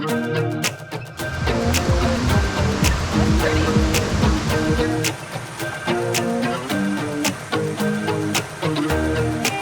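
A waterfall in the North Carolina mountains near Brevard roars as a loud, continuous broadband rush, with scattered clicks and knocks throughout.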